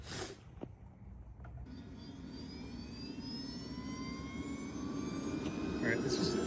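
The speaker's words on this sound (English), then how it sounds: "Will a jet engine cook a sirloin steak?" A jet engine blasts steadily at close range to cook a sirloin steak, a loud roaring whoosh with a rising whine that holds and grows slightly louder throughout.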